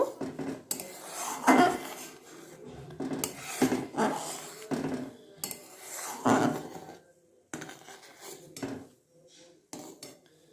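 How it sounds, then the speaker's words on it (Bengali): A spatula stirs and scrapes melting butter with its froth in a pot while making homemade ghee, giving repeated metallic scraping strokes in bursts with short pauses, close up and with no talking. "গেজাটাকে একটু খুন্তির সাহায্যে নাড়িয়ে দেব"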